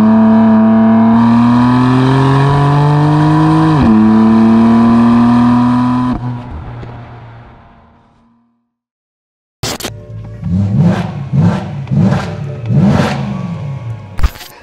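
BMW M4 engine under load during driving, a loud sustained revving tone rising through the gears, a gap of silence, then several sharp rev bursts and accelerations at close range.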